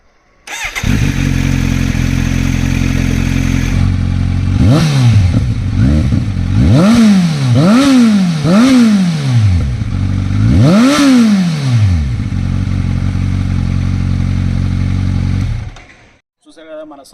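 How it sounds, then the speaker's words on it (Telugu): A Kawasaki Z900 motorcycle fitted with an aftermarket silencer exhaust idles loudly up close, then is revved in a series of sharp throttle blips, rising and falling five or six times before settling back to idle and cutting off. "దీనికి వచ్చేసి మనం సైలెన్సర్, ఇది షోరూమ్ కాదు, మనకు సపరేట్ వచ్చిన సైలెన్సర్."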